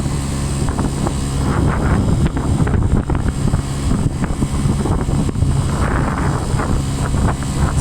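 A scooter rides along, its motor rumbling low and steady beneath heavy wind buffeting on the microphone, loud and continuous throughout.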